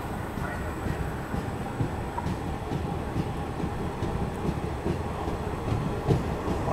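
An Indian passenger train rolling out of Mohanpur junction on the way from Deoghar to Basukinath gives a steady, loud rumble of wheels on rails with rhythmic clatter, heard from inside a carriage.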